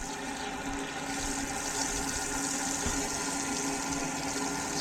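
Water runs steadily from an Aquor outdoor spigot, a constant hissing gush at moderate level with no talking over it.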